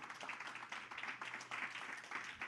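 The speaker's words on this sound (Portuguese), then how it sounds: "dá uma salva de palmas" A church congregation applauds during a service, steady clapping from many people heard faintly and at a distance.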